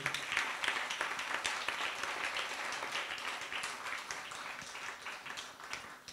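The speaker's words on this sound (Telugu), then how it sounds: "ఒక్కసారి స్వామి గట్టిగా మందరం కూడా చప్పట్లు కొట్టాలి" An audience at a Ramayana talk about Sathya Sai bursts into loud, sustained clapping, a thick steady wash of hands that fades slightly toward the end.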